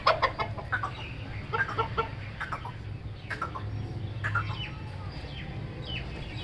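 A rooster clucking repeatedly while being caught outdoors, a run of sharp close clucks and squawks in quick bursts over a steady low background rumble.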